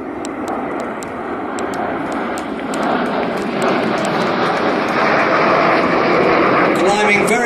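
A Red Arrows BAE Hawk jet flies at an airshow at East Fortune, a loud sustained engine roar that swells toward the end, with an announcer talking over it.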